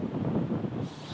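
Strong gusting wind buffeting the microphone on a golf course, a low rumbling roar that stays fairly loud across the whole moment with no voices.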